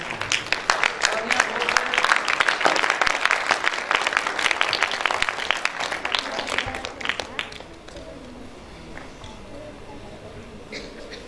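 An audience claps to welcome an honoured guest onto the stage at a birthday celebration event, lively dense applause for about seven seconds that thins and fades out.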